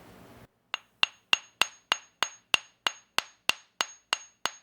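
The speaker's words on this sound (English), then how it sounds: "start tapping on it gently" A hammer taps steadily on a geode, about a dozen crisp, evenly spaced clicks on hard stone, close and fairly quiet.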